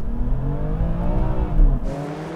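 A car engine roars and revs hard as it launches at a drag race start, pitch climbing steadily through the gears, loud and close.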